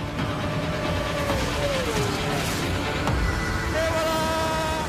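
Kawasaki ZX-10R superbike racing flat out at 300 km/h, a loud steady high-revving engine drone with shifting pitch, close and continuous.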